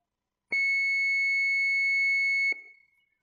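A single steady electronic beep synthesized with the Web Audio API holds one pure pitch for about two seconds, starting and stopping with soft clicks, then fading into silence.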